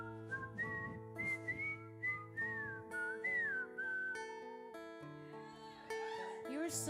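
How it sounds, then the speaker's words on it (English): A person whistles a wavering, slightly uncertain melody up close over sustained background music, the tune rising and bending across several phrases. "See, I can whistle too"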